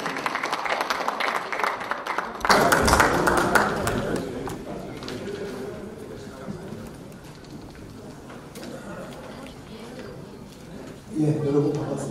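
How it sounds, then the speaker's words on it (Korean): A large audience at a Democratic Party training session for local government heads applauds to welcome a lecturer. The clapping swells suddenly, then continues as a steady wash for several seconds under a voice, with a second rise near the end. "큰 박수로 양정철 원장님을 맞아주시기 바랍니다"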